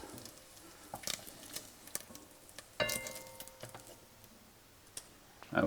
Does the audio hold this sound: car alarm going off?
no